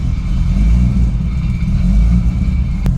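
A cammed Nissan R33 GTR engine idles loud and close with a lumpy, rumbling low-end throb, holding steady without a clear rev.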